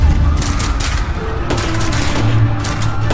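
Soldiers firing guns in a dramatized 1919 Jallianwala Bagh massacre scene: loud, sustained volleys of rapid gunfire in a dense continuous fusillade that runs without a break.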